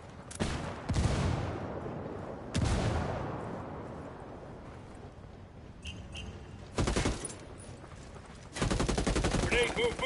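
Gunfire and blasts during a Ghost Recon Wildlands PvP match on PS4, with a few loud sustained bursts separated by quieter rumbling stretches and faint voice callouts.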